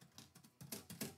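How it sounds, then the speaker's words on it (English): Typewriter keys struck in quick, uneven clusters during live poetry typing, a faint, close clatter of several bursts with short pauses between them. "I'm going to kind of just throw some words out on the typewriter"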